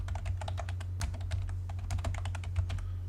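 Quick, crisp keystrokes on a computer keyboard as a shortcut is entered in AutoCAD, a close run of rapid, irregular clicks with no talking.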